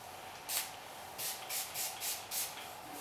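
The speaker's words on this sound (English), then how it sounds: "Spray it on" Dunlop fingerboard cleaner sprayed onto an acoustic bass fingerboard: five short, close hissing spray bursts in an uneven rhythm over a quiet room background.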